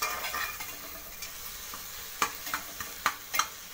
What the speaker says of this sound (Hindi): ये देखिए, मेरा टमाटर ऑलमोस्ट ये कुक हो चुका है।